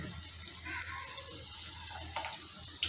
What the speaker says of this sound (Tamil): இந்த எண்ணெய் நல்லா சூடானதுக்கப்புறமா நம்ம ரெடி பண்ணி வச்சுருக்க இந்த உருட்டைகளை அதில் கொஞ்சம் கொஞ்சமாக சேர்த்துக்கலாம்